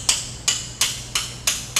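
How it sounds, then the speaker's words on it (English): A brass hammer taps a crankshaft part during an aircraft engine overhaul, six crisp metallic knocks at an even, steady pace, close up and clear with no talk. "this is a brass hammer."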